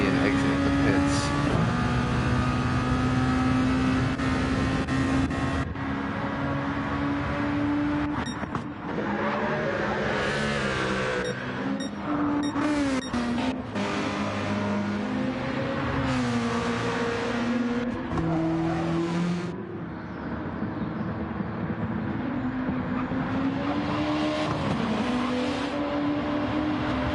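A sim race car engine drones steadily as it pulls out of the pits at Road Atlanta, rising and falling through gear changes in a long continuous run while a commentator talks over it.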